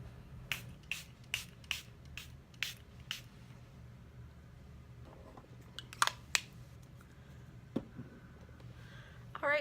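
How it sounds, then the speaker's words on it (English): e.l.f. Aqua Primer Mist setting spray is pumped in a run of short, sharp misting bursts at a steady rhythm, then a few scattered sprays and soft handling noises in a quiet room. "this is the e.l.f., this is their Aqua Primer Mist."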